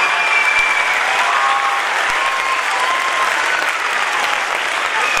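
A large audience at the Nalmanam's High Octane 2015 event claps in loud, dense, continuous applause for about five seconds, with no break in the sound.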